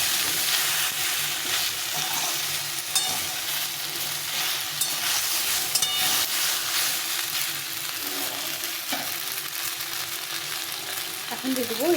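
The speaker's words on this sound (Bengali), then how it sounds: "একটু নেড়ে চেড়ে মশলার সঙ্গে একটু মিশিয়ে নিয়ে" Spinach and jackfruit seeds being stirred with spices in a hot pan, a continuous close sizzle with scraping and occasional clinks of a spatula.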